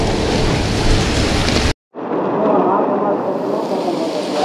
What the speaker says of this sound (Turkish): Çünkü yağmur dönem dönem aşırı yağıyor